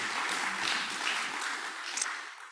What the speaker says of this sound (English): So let's give another round of applause to Dr.